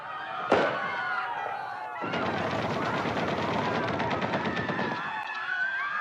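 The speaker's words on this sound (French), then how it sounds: "des coups de feu sont entendus" Gunfire in street fighting in Oran: a single sharp report, then a sustained rapid burst of automatic fire rattling loudly for about three seconds before cutting off, heard as an archival recording.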